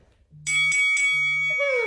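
A workout timer bell in a virtual beginner HIIT class rings a quick series of bright, clear chime tones that ring on and then slowly decay, close and alone.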